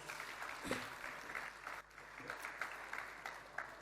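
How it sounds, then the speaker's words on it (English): Audience applause for a speaker at a panel discussion on epidemic preparedness, a steady, faint wash of many hands clapping heard from a distance, with no talk over it. "let's give him another round of applause"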